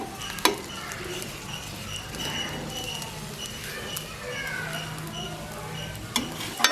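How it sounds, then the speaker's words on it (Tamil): Sri Lankan coconut rotti frying in oil in a pan: a steady soft sizzle with occasional sharp clinks of a utensil against the pan. "எண்ணெயில் கொஞ்சம் முருகலாகத்தான் சுடுறது இந்த ரொட்டி."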